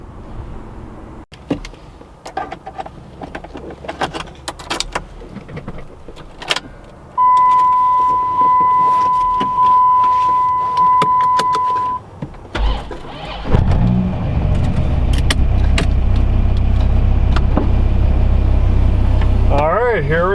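A 2003 Dodge Viper SRT-10 is started: a steady electronic chime sounds first, then the engine catches with a sudden loud, deep roar and settles into a heavy, sustained idle close by.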